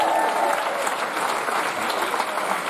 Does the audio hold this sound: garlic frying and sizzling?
no